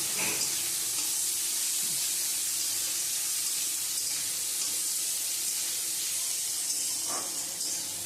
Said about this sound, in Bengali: এখন পেঁয়াজটাকে দিয়ে হালকা লাল করে ভেজে নেব।